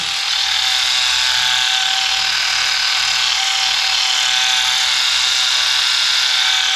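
An Adam's Polishes SK Pro Micro cordless swirl-killer polisher runs steadily on cruise control while spreading polish, a loud, close, continuous high-pitched whirring buzz with no talk over it.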